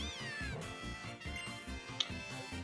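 Litten, the fire-cat Pokémon, cries out in Pokémon Ultra Sun with a meowing, cat-like call, fairly quiet over steady, rhythmic game music.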